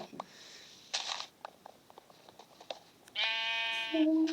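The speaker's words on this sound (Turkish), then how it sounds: "Koyun çıktı bir tane daha." Electronic-sounding Minecraft sheep bleats ring out twice, a short one early and a longer wavering one near the end, with clicks and soft tapping between.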